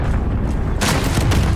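A rocket explosion in a Battlefield match on the St. Petersburg map, a loud close boom with heavy rumble, followed by a sharp crackling burst.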